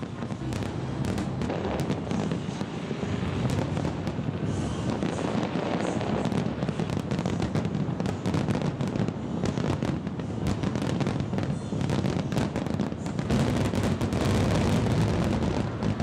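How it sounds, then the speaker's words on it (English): Fireworks over Hong Kong at night: a dense, continuous barrage of crackling bursts and booms heard from a distance, with steady rumbling and no talking. "thousands of fireworks which light the night skies"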